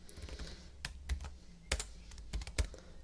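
Close computer keyboard typing in Notepad, a few crisp separate key clicks and thumps spaced irregularly over a low background hum, no voices.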